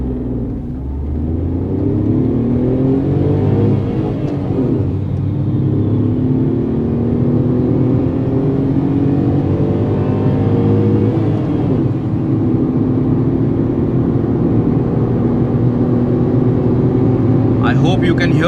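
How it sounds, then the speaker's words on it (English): Inside the cabin of a 2022 Tata Tiago iCNG running in CNG mode, the engine drones and climbs steadily in pitch under hard acceleration, a loud continuous hum with a voice talking over it. "I hope you can hear the engine noise inside the cabin."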